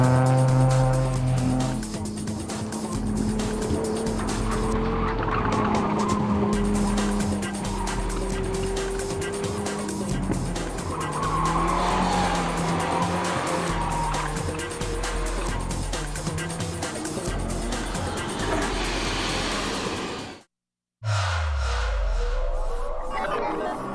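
Street cars on barely street-legal Hoosier DOT performance tires corner hard around a 200-foot skid pad, engines droning with drawn-out tire squeal layered over them, loud and continuous apart from a brief cut near the end.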